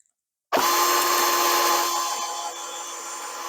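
After a moment of silence, a power drill whirs on abruptly at close range, driving hard against a stubborn screw with a loud, steady high-pitched motor drone that sags slightly under load.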